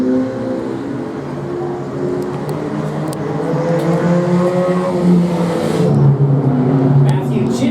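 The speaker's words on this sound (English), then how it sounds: "on the outside of the 81 of Dustin Hartwig as they come off in turn number 4 for lap number 6" Race cars in a claimers event roar steadily around an oval track, several engines overlapping and rising and falling as the pack circles, with a commentator talking continuously over them.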